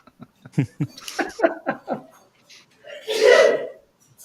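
Short bursts of speech are followed by a single loud, close sneeze, a sharp, breathy burst that ends abruptly.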